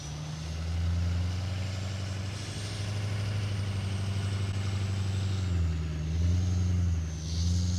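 Heavy truck engines labor and rev in deep snow as one truck, linked to another by a clevis, tries to pull it free on a hillside; a steady, loud diesel drone rises and falls without talk.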